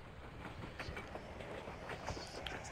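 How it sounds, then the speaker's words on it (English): Train in the video game Layers of Fear: a steady, rumbling rattle of a moving train with faint rhythmic clatter runs without pause at moderate loudness. "Fucking piece of shit train."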